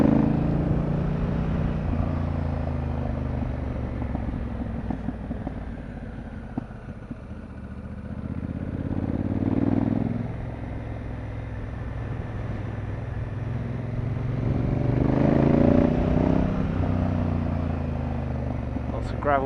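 A Honda Africa Twin DCT motorcycle riding along country lanes, its engine droning steadily with rising and falling revs and wind rush, loud and close throughout.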